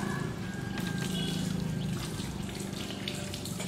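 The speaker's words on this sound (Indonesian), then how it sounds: "Bilas dengan air mengalir." Hands are rinsed under a running tap, a steady close splash of flowing water with shifting spatter as the hands move in the stream.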